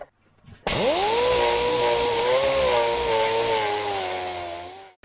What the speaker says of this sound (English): I'll take the file marks out with a disc sander.